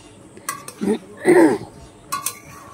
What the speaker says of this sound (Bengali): অলরেডি একটু নাড়তে হবে যাতে তলায় না লেগে যায়